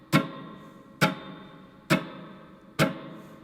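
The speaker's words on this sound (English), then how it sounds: "Now with your fingers just touching the strings, it should just sound like this." Muted guitar strings strummed with fingers lightly resting on them, four sharp percussive chucks at an even, slow pace, each a dry click with a short fading tail, alone and close.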